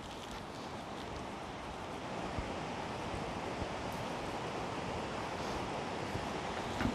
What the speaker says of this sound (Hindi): शोर मचाता पानी का नाला।